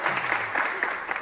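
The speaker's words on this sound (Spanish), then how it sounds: "te pido un fuerte aplauso para ella" Short burst of clapping from a small audience at an award moment, steady and close, with no talk over it.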